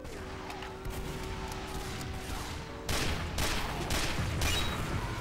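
Gunfire and explosive blasts in Team Fortress 2 gameplay, a dense clattering volley that grows louder in the second half over continuous game background noise.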